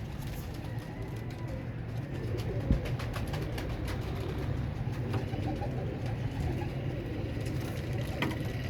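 Thirteen pigeons, five Ali wale and eight Teddy pigeons, coo softly amid a steady, dense background hum with faint engine noise, and no one speaks.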